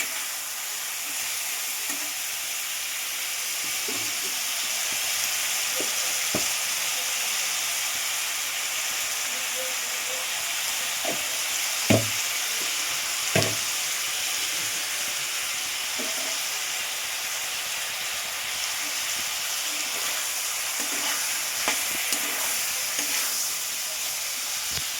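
Potatoes fry with salt and turmeric in a pan, giving a steady, moderately loud sizzle and hiss with a few sharp clicks and utensil knocks scattered through.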